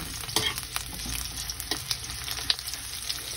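Food frying in a pan, likely dried squid (pusit) or fish, a steady crackling sizzle with scattered sharp pops and stirring scrapes, close and continuous, with no talking.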